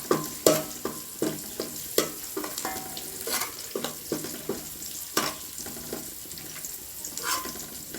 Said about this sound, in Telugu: వేపుకుంటే కరివేపాకు మంచిగా వేగుద్ది, బాగుంటుంది, మాడదు